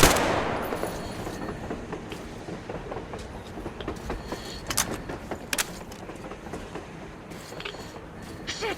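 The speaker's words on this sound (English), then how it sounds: "A train! A damn train on the surface!" Train rolling along on the surface in the video game Metro Exodus, a steady rumbling clatter with rhythmic clicks and metallic jangles throughout, fairly loud and continuous with no talk.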